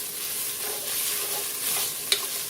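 Fresh minced garlic, about four cloves, sizzles in a hot soup pot for hamburger vegetable soup: a steady close frying hiss with light stirring and a brief sharp clink near the end.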